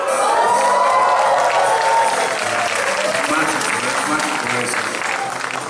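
A hall audience at a posthumous tribute concert breaks into loud, sustained applause with some cheering and shouts, while a voice speaks briefly over the clapping near the start.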